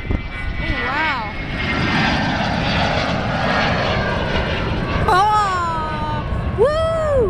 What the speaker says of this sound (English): And that aircraft is fucking taking off.